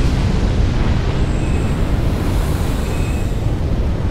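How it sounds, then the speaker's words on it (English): Roaring fire in Dark Souls III, a steady, dense rumbling roar that stays loud and unbroken throughout, with no voices. "That's lots of fire!"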